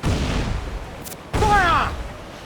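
Ship cannon fire in Assassin's Creed IV Black Flag, a heavy boom that hits midway through a steady noisy battle roar, followed by a voice shouting.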